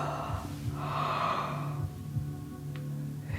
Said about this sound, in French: Et je bâille.